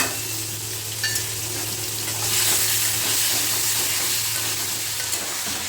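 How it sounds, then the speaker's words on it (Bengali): Diced potato and chopped tomato fry in a pan with a steady, close sizzle and occasional soft stirring sounds, all under a low background hum. "আমরা আলু এবং টমেটো দুটোই খুব সুন্দর করে ভাজা হয়ে গেছে"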